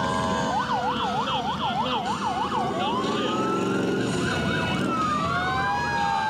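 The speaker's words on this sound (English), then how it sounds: "They love to hear the sirens." Fire department engine sirens at an Independence Day parade, a rapid yelping wail giving way to a long rising and falling wail, with a second siren overlapping, loud and nearby over steady engine and crowd background.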